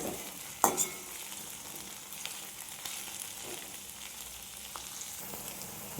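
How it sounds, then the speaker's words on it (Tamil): Onions sauté in a pan for an okra tamarind curry with a soft, steady sizzle and occasional stirring clinks, one a little sharper near the start, all fairly quiet and with no talking. "வெங்காயம் நல்லா கலர் மாறுற வரைக்கும் நல்லா வதக்கணும்."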